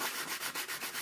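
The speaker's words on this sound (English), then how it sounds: "Sanding." Rhythmic sanding of 3D-printed armor parts, a close, steady abrasive rubbing with regular back-and-forth strokes roughly every fifth of a second, alone without talk.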